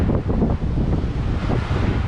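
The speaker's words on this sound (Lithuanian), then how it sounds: "Vanduo, bangos daužosi į šitą objektą" Sea waves surge and crash against an old concrete, metal and stone coastal fortification at a former naval port, a loud rushing wash mixed with strong wind buffeting the microphone, with no voices.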